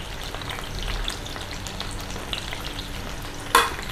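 Tinda (apple gourd) fries in oil with a steady, close crackling sizzle, broken near the end by a single sharp clink.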